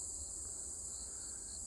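Crickets and cicadas chirp together in a hot outdoor setting beside a pine mushroom patch, a steady, faint high-pitched insect drone running without a break and with no talk.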